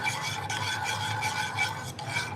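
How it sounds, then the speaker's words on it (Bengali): A spoon stirs powdered milk into cold water, making a steady run of close scraping, swishing strokes with short pauses between the rhythmic rounds. "ঠান্ডা পানির মধ্যে গুঁড়া দুধ মেশাতে হবে তাহলে দুধটা খুব ভালোভাবে মিশে যাবে"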